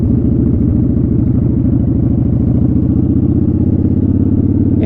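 Motorcycle pulling away in first gear while the rider feathers the clutch through the friction zone, a steady close engine rumble with a pulsing low throb running the whole time, no talk.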